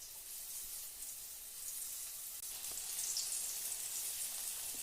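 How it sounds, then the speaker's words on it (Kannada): Hot oil sizzles and fries sweet potato goli baje dumplings in a pan, a continuous soft bubbling hiss that swells slightly partway through, fairly quiet and with no voices. "ಈಗ ಬಾಣಲಿಲಿ ಎಣ್ಣೆ ಕಾಯಕ್ಕೆ ಇಟ್ಟಿದ್ದೀನಿ ಕರಿಲಿಕ್ಕೆ"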